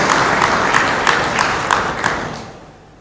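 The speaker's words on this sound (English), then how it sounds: "A warm round of applause." A conference audience at an opening ceremony gives a warm round of applause, dense clapping that holds steady, then fades out over the last half second.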